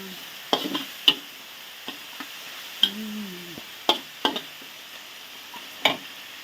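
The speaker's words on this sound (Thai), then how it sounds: "ค้นไปค้นมาให้ใกล้สุกนะจ้าเนาะ" Thai basil chicken stir-fried in a pan, with a soft sizzle under repeated sharp clicks and scrapes of a spatula against the pan, heard up close with no talking.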